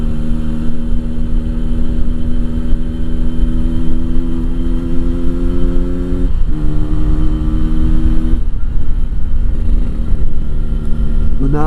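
A Yamaha RX-King motorcycle engine idles steadily and loudly up close, a constant low throb that dips briefly twice.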